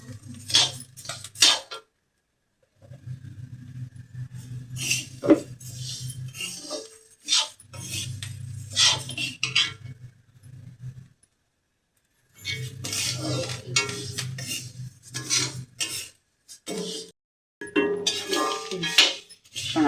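Urad dal and spices are dry-roasted with a little sesame oil in a pan for idli podi, with a spoon scraping and clinking against the metal in irregular bursts and brief pauses, close by.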